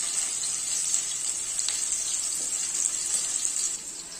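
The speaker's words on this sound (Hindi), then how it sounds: "अब हमारा डाल देंगे हम आम। ऐसे करके से भून लेंगे लाल हो जाएगा।" Mango pieces fry in hot oil in a pan while a vegetable dish is made, giving a continuous close hiss and crackle that holds steady, then eases off just before the end.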